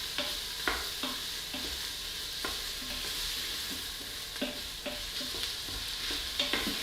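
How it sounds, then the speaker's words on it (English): Crumbled vegan sausage browns in a pot on the stove with a soft, steady sizzle, broken by repeated scraping stirs of a spoon, quiet and close with no talking. "Let the sausage start to brown just a little bit."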